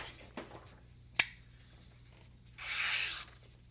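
Thin paper sliced by an Elmax steel pocket knife blade, a quiet rasping draw lasting under a second after a faint rustle and a sharp click, with light handling noise and no voices.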